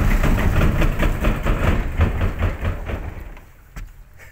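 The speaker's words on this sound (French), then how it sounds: "Donc là, on va démarrer le moteur, ça y est." A sailboat's inboard engine cranks during hull maintenance, a loud, rough rhythmic chugging of repeated pulses that runs for about three seconds, then stops abruptly without catching, leaving near silence with a single faint knock.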